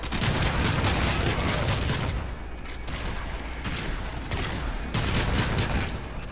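Sustained rapid gunfire from the Warframe video game, dense overlapping bursts running loud and continuous throughout with no talk.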